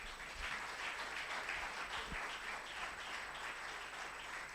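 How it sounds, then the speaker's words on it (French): Seated church congregation applauding steadily, a continuous even patter of many hands clapping at moderate distance throughout, with no talk over it. "Est-ce que tu peux acclamer en étant assis?"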